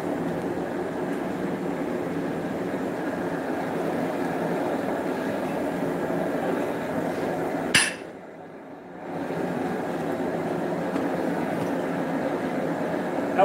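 A homemade power hammer with a 4-pound head forging Damascus steel pounds in a steady, rapid mechanical rhythm, loud and continuous, with a brief pause before the pounding resumes.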